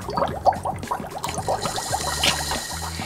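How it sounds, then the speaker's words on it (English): Soda water is poured to top up a smoky mocktail with dry ice, a steady close trickle with fizzing and small bubbling pops throughout. "And top with a bit of soda water."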